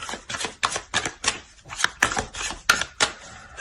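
Tarot cards are shuffled and laid out by hand, giving a run of crisp, close card snaps and flicks in an uneven rhythm, with no voices over them.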